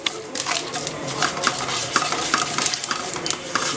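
Mustard seeds splutter and pop in hot oil with fenugreek for a Tamil fish curry, a steady crackling sizzle broken by sharp, irregular pops close up, with no voices.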